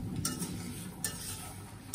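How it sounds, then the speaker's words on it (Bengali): Potato and bitter gourd hitting hot oil tempered with cumin seeds, a steady close sizzle with a couple of brief stirring scrapes. "এখন এই যে আবার দিয়ে দিলাম তেল, জিরার ফোড়ন, আর এই দিয়ে দিলাম সবজিটা"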